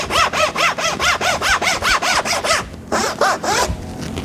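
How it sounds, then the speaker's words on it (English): Rapid back-and-forth strokes of a Japanese pull saw cutting a wooden dovetail joint for an end table, a steady rhythm of about fifteen close, loud rasping passes with a brief pause near the end. "Bring my saw down, and I'm gonna start cutting down to my line."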